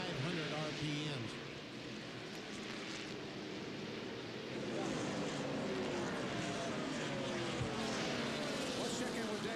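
A NASCAR stock car engine at the 2000 NAPA 250 roars from onboard as it accelerates down the back stretch, with the pitch climbing steadily and loud sustained engine noise throughout.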